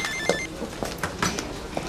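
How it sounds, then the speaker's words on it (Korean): A telephone rings in an office, its bell repeating in short bursts amid background noise and movement, fairly close and moderately loud. "아, 형, 태석이 형, 전화. 전화, 빨리요"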